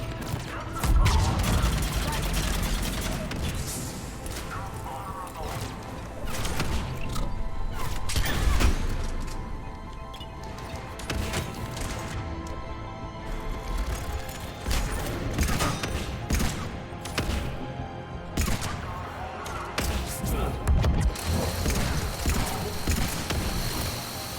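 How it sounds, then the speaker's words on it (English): Sci-fi shooter combat from Mass Effect 3 keeps going with bursts of gunfire, crashes and mechanical clatter. The sounds are dense, loud and close, with a voice talking over them at times. "sounds like shooting"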